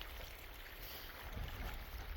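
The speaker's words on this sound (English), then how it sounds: "Oh, it's so nice and windy here on shore." Steady gusting wind on a lakeshore beach buffets the microphone, a constant rough roar with low rumbling bursts and no voices.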